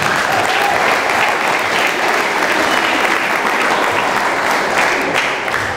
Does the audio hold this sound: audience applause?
yes